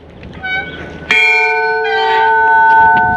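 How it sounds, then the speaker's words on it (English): A bell in East Troy, Wisconsin rings out with a sharp strike and a long, bright, ringing sustain, preceded by a softer earlier tone; clear and fairly close. "Let's ring the bell."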